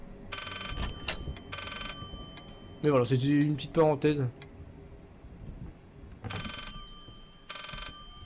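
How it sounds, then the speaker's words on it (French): Electronic telephone ringing in the background during a Layers of Fear game session, several evenly spaced buzzy ring bursts, with someone speaking briefly in the middle. "C'est quoi, le téléphone derrière?"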